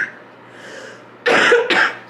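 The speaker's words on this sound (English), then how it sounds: "Sorry, we're still coughing despite it being like over a week of being sick." A person with a lingering illness coughs in two harsh bursts close to the mic after a quiet stretch.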